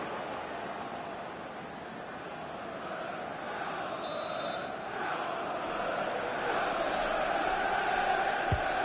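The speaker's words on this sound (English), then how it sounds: "The crowd are certainly playing their part." Stadium crowd in a FIFA 25 simulation of a Fulham vs Chelsea Premier League match, a broad, steady roar of cheering fans that swells slightly toward the end, with no clear talk on top.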